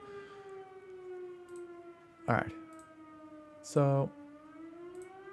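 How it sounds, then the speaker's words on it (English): A steady firehouse siren wails in the distance from a home, a sustained droning tone running throughout, with someone speaking briefly over it. "there's a fire alarm going off in my house"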